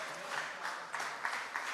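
Audience clapping at a public event in Faridabad comes in a steady rhythmic beat, many hands striking together in regular pulses, moderately loud with no one talking.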